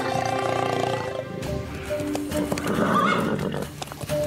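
A cartoon horse whinnies loudly and shrilly, then heavy hoofbeats and a jumble of horses galloping follow close by.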